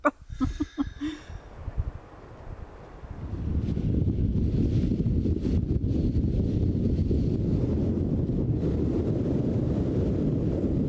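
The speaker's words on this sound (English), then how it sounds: "It's really windy" Strong, cold South American wind buffets the microphone in a loud, continuous low roar after a few brief knocks and rustles at the start.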